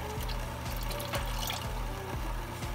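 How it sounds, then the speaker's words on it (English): Bottled treatment solution poured into a home aquarium near its filter during a fishless cycle, a steady liquid trickle and splash under a constant bubbling hum, with no talking. "we're gonna pour about half of the bottle, probably near the filter"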